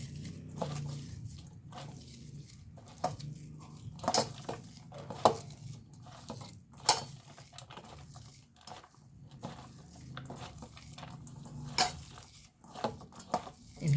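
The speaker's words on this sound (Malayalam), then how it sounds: "ഇതൊന്ന് നല്ലോണം കൈകൊണ്ട് ഒന്ന് നേരടി എടുക്കുന്നുണ്ട് ഉള്ളിയൊക്കെ ഒറ്റ ഒറ്റയായി വരണേ" Chopped onions being worked and squeezed by hand in a bowl, a close, wet squishing and rustling in irregular bursts with occasional light knocks against the bowl, no talking.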